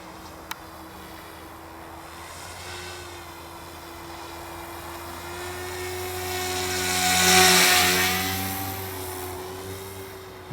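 A powerful electric radio-controlled helicopter on an 1800 mAh LiPo battery whines with a steady high-pitched rotor and motor tone, swelling louder as it passes close before easing off, with no talking.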